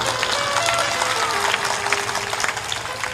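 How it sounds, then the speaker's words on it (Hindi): Audience clapping loudly at a night-time spiritual discourse gathering, a dense continuous wash of many hands lasting the full stretch at steady strength, with some voices blended in. "ताली जोर से बजाया करो"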